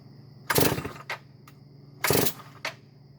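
A modified Farmertec 660 Pro chainsaw fires in two short, loud bursts, sputtering briefly each time before dropping back to near quiet.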